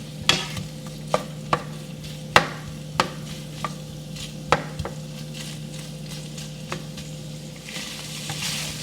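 Shrimp cooking in a pan over a steady sizzle, with sharp metallic clacks and scrapes at irregular intervals as it is tossed, close and clear with no talking.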